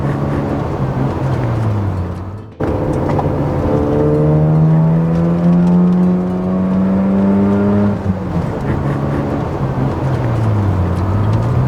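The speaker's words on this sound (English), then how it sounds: "It revs really effortlessly." Rotary engine of a 1993 Mazda RX7 FD revving hard, a loud, smooth rising whine climbing through the gears with a brief break for a shift, heard alone without talk.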